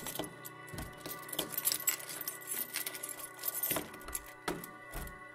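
Keys jangle and clink while a door is unlocked, a run of bright metallic rattles and small knocks, close and fairly loud, with brief pauses between bursts.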